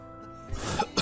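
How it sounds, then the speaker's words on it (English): A person painting a moonlit owl coughs near the microphone, one short rough burst after a quiet lead-in and then a second sharp cough just after it, heard alone without talk. "I still got this cough."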